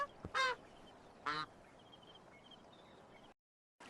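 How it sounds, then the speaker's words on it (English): Tufted duck, a black and white diving duck, gives two short, harsh nasal calls about a second apart, fairly close and clear over faint background hiss, with a few thin distant bird notes between. "Tufted duck, a black and white diving duck with a prominent crest on its head"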